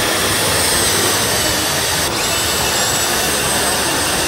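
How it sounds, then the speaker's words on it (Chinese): A Dex 12V cordless electric drill runs at a steady, loud whine for several seconds without a break. The sound is close, with general noise from a busy trade show in the background. "来我们来看看这个德克斯的12B 的电钻怎样"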